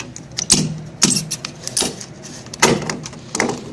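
Fuel filler cap on a 2016 Ram 1500 short-bed pickup being worked, giving a series of sharp, close clicks and taps spaced irregularly across a few seconds, with no talking.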